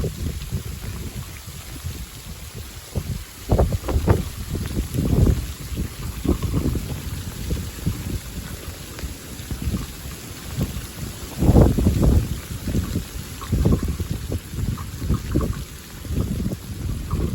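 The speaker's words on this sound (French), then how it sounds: "Ça regrêle." A sudden February hailstorm drives hail and rain in strong gusts of wind, a continuous loud rushing clatter with repeated surges, close to the microphone, no talking.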